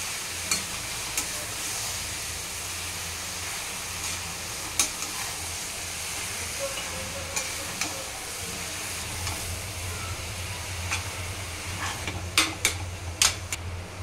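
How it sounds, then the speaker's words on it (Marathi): Raw jackfruit stir-fried with masala in a pan gives a steady broadband sizzle, broken by scattered sharp clicks and scrapes of stirring. It runs close and fairly loud, with no voice over it. "आता याच्यात फणस टाकू."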